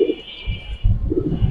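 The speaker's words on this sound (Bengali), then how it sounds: "সুপার বিউটি কবুতর।" Super beauty pigeons, a breeding pair, cooing in soft low repeated phrases close by, with a steady high hiss in the background.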